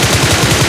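Loud, rapid automatic gunfire from the video game Ultimate Royale rattles off in a dense burst of evenly spaced shots, filling the short moment with a harsh, sustained roar.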